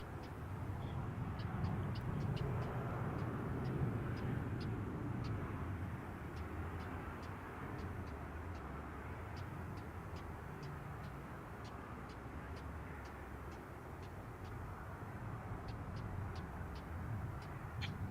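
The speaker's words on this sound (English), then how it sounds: "It's very subdued reverse thrusters too." Airliner landing with subdued reverse thrust at an airport: a faint, steady, distant jet roar that continues without a break through the whole stretch, with light ticking in the background.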